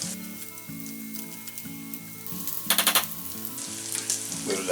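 Savoy cabbage frying in a pan for a chicken and bacon pie, a steady sizzle beneath a low background drone, broken by a brief clattering burst midway and a louder rattle near the end.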